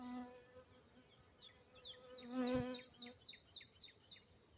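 Honeybees buzz steadily around a brood frame lifted from a hive, a close, continuous insect drone with flight tones rising and falling as individual bees pass near, with no talk.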